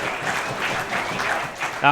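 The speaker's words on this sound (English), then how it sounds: "the Magpies crowd are vocal once again because they're back in the contest" A crowd at a Palmerston versus St Marys NTFL Australian football match roars and claps in a sustained, fairly loud wash of cheering and applause, with a commentator's voice running over it.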